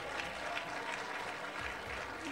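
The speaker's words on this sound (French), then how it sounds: "Applaudissements pour elle" Thick, steady applause from an audience at the LFC Awards 2018 ceremony carries on without a break for a couple of seconds.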